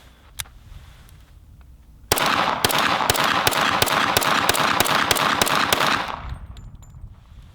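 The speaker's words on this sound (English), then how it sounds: "So let's go ahead and empty the mag." Rapid automatic gunfire in the Gray Zone Warfare combat game, a whole magazine emptied in one long burst of evenly spaced, loud shots lasting about four seconds, then cut off.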